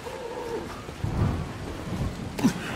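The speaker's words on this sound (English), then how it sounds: "Hey, it's raining." Rain falls in the video game Dying Light as a steady hiss, with low rumbling thunder swelling near the middle and a brief louder crack near the end, no voices present.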